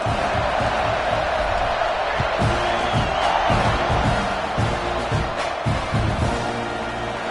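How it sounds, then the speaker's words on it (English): A crowd at a Clemson at Texas A&M college football game buzzes after a touchdown, a steady dense roar from a large stadium with a broadcast commentator talking over it. "this crowd is buzzing after that last score"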